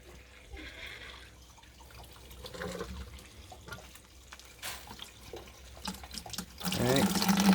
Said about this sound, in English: I've got the water running, the taps running here